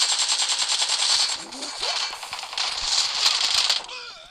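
Rapid automatic gunfire in the battle royale game PUBG, dense bursts of rattling shots filling most of the stretch, loud and close, with a brief lull in the middle and faint talk underneath.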